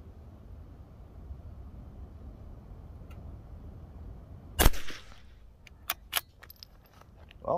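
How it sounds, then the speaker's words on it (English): A CZ457 rifle fires several shots at a target outdoors: one loud sharp crack, then a quicker cluster of lighter cracks, over a low steady background rumble with no talking. "that was the first 5 shots out of this rifle"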